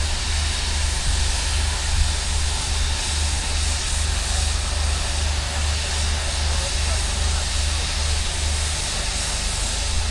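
Steam engines parading around the arena at a steam rally at Tinkers Park, Hadlow Down, Sussex, a steady loud hiss and rumble of machinery with little change, continuous over its length.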